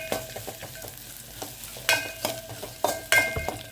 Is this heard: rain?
no